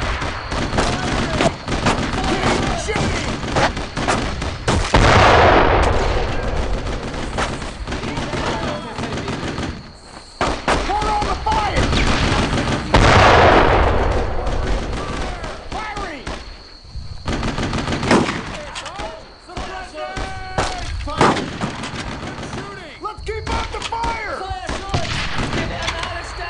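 Gunfire and artillery crackle in Brothers in Arms: Road to Hill 30, a loud, dense battle of rifle and machine-gun bursts with heavy blasts, while soldiers shout over the fighting.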